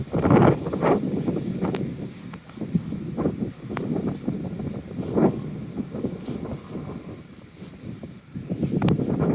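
Gusty wind buffets the microphone on a cold, drizzly Torquay seafront, a loud, steady roar rising and falling in waves with no voices.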